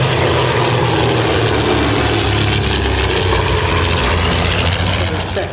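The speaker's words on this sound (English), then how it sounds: "it's as agile as any other de Havilland Chipmunk" A de Havilland Chipmunk propeller aircraft flies at the Shuttleworth season premiere air display, its engine droning loud and continuous throughout, with a low throbbing propeller hum that swells slightly as it passes.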